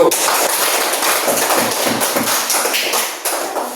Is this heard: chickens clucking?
no